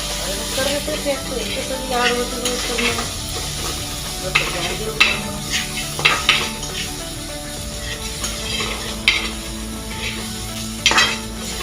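Hot water poured into semolina sheera cooking in a pan and stirred, giving a steady sizzle and hiss with scraping stir strokes and light utensil clinks close up, with occasional speech nearby.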